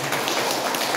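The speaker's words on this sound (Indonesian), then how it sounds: "Tepuk tangan untuk Tuhan Yesus." Applause from a church congregation, a dense burst of clapping from many hands filling the room, loud and close for about a second with no pauses.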